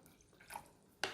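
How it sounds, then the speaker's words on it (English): A short splash of water poured into a tray-prepared MRE grape drink, a soft trickle and then a brighter splash near the end, close and quiet with no talk. "Let's add a little water."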